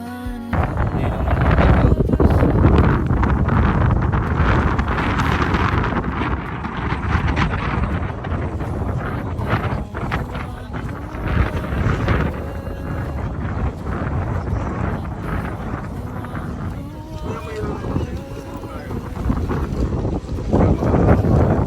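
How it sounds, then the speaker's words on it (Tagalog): Strong, continuous wind roars and buffets loudly throughout, with gusty rumbling low-end noise and no clear speech. "Lakas ng hangin, oh."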